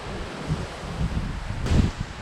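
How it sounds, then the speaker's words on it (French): Gusty south wind at Lake Vouglans buffets the microphone with a rough, rushing roar that swells and surges toward the end. "Gros vent du sud"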